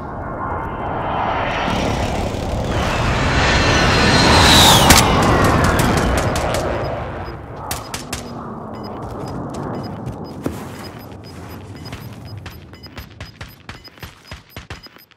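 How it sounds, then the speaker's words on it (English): An allied precision airstrike in a video game builds as a loud, rolling roar of aircraft and blasts, then breaks into a long string of sharp, crackling explosions that slowly thin out. "Allied precision airstrike incoming."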